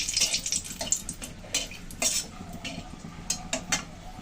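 A dried red chilli frying in hot mustard oil for tempering, a soft sizzle beneath sharp clinks and scrapes of a utensil stirring in the pan, close and fairly quiet.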